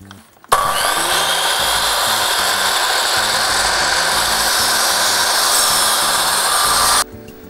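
A miter saw cuts through a wooden piece for a corner joint, starting abruptly with a loud, close, sustained whine that holds steady for about six seconds before cutting off sharply.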